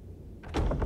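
A door opens in the video game Resident Evil 4, with a short thunk followed by a louder, fuller swell of sound that carries to the end, alone with no talk.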